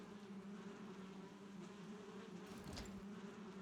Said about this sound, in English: We now have beehives. The bees are happy.